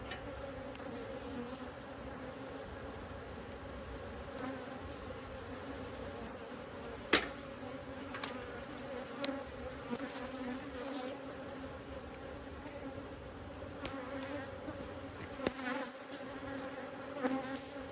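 A dense swarm of honey bees around an open hive drones steadily and close, a constant humming buzz with occasional louder passes near the ear.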